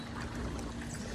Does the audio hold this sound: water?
yes